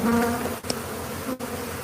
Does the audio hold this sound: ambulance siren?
no